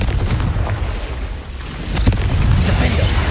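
Confringo spell explosions in the video game Hogwarts Legacy, deep booming blasts and fiery crackle layered over continuous combat rumble, loud and close across a few seconds.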